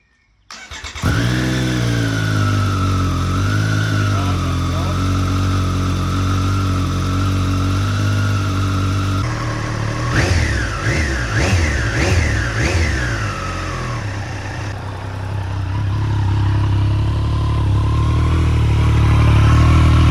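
Triumph Street Triple 765 RS motorcycle on its stock exhaust starts up and idles, then blips the throttle in several quick revs before settling back to a steady, close, loud idle.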